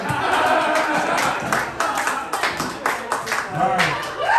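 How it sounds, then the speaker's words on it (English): Applause from a comedy roast audience, scattered claps and crowd noise rising in bursts across the clip, mixed with talking over it. "round of applause for Ryan Sam."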